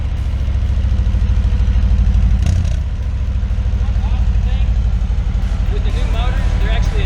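A 2017 Harley-Davidson Milwaukee-Eight single-cam engine idles through its new, larger exhaust system, giving a steady, loud low rumble that carries through the whole stretch with a brief surge near the middle.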